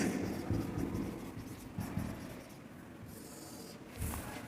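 Chalk or pen scratches out writing during a physics lecture, quiet rhythmic strokes with short pauses, in a room with faint background noise and no speech.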